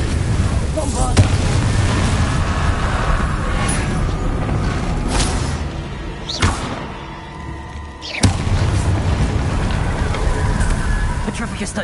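A Bombarda blasting curse detonates in Hogwarts Legacy, loud booming bursts and thuds rising out of dense, continuous combat noise, with sharp impacts near the start and around two-thirds of the way through, and a voice speaking underneath.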